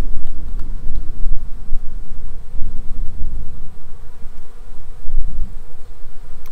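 Honeybees swarm at an open hive as a weak colony is joined to a stronger one. Their loud, dense buzzing hums close by throughout, with no talking.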